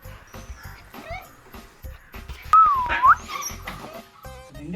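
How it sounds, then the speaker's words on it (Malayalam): Dog in a household setting, a few short yips and whimpers over a busy background with music and an occasional whistle-like tone, moderately loud. "പട്ടി"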